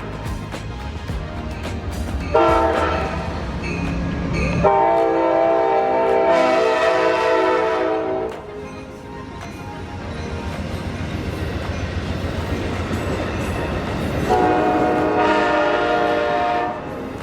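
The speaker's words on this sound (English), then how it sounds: "If you stood at this crossing all day, you could see the Amtrak train coming and going by several times." An Amtrak train sounds repeated loud horn blasts as it passes a railroad crossing in Florida, with steady rumbling rail noise and clatter continuing between the long horn calls.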